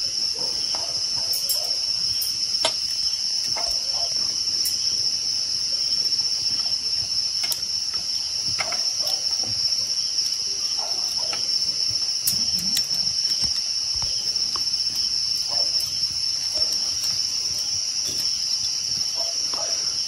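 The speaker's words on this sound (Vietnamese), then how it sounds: "chỉ nghe được những cái tiếng dế kêu này" Crickets chirp at night outside a rural Vietnamese home, a steady high-pitched trill running unbroken throughout, with faint scattered insect and night sounds around it and no voices.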